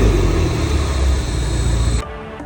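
A supercharged Lexus engine runs loudly and steadily in a test startup, a dense roaring drone that cuts off abruptly near the end and leaves quieter background noise.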